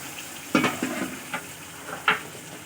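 Boiled lentils, ash gourd and jackfruit seeds are stirred into sautéed spices in a pot, with a soft sizzle under a few distinct scraping, clinking stirs spaced irregularly across the moment.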